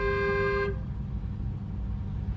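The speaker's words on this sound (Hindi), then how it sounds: "इसको हॉर्न दो" A car horn honks in one sustained blast on a single-lane road lined with parked vehicles, cutting off after under a second and leaving the low rumble of the moving car.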